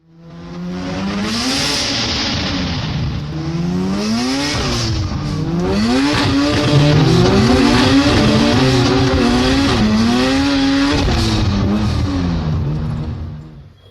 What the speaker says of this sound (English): It's got some engine noises.